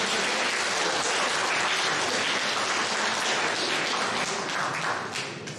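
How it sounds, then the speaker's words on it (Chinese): An audience gives a lawyer's political speech a long, even round of applause, thick steady clapping that fills the room and fades slightly at the end. "此处有掌声啊！"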